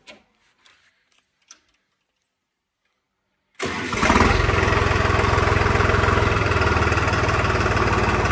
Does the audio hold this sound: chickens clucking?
no